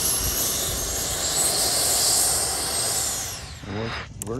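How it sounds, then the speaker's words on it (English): Freewing Avanti S V2 80mm EDF sport jet landing, its ducted fan roaring loud and steady with a hissing whine that suddenly drops away near the end. "Reverse thrust looks like it works really well on this plane."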